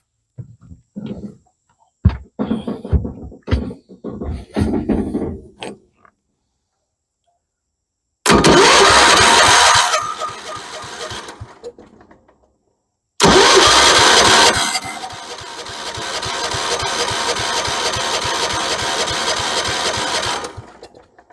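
A Kohler K301 engine on a 1976 Vermeer LS200 log splitter cranks over without firing, in two loud sustained bursts of starter grinding after a quieter series of clicks and knocks, with a pause between attempts.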